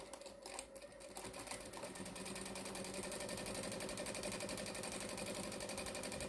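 A domestic sewing machine fitted with a walking foot stitches steadily, a continuous fast mechanical whirr with rapid needle ticking running nearly the whole time after a short, quieter start.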